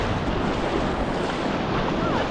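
Ocean waves break and wash continuously at a beach in Arraial do Cabo, Brazil, with wind buffeting the microphone in a loud, close, unbroken rush.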